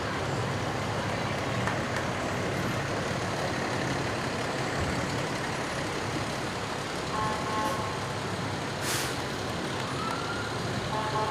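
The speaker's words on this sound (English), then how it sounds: "Eagle Hose Company number 4 truck, engine 936" Eagle Hose Company number 4 fire truck, engine 936, rolling past in a Bennington Battle Day parade, a steady broadband engine and road rumble with a brief sharp burst partway through, heard loud and close with no talk.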